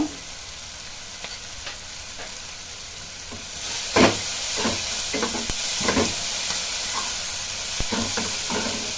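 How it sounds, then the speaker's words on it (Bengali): Noodles with vegetables sizzle steadily in a frying pan while a spoon scrapes and stirs them in irregular strokes, the frying hiss continuous and close, a few louder clatters of the utensil against the pan rising over it. "এবার সবগুলো একটু ভালোভাবে নেড়ে তারপরে গুঁড়ো মশলাগুলো দেবো এর মধ্যে।"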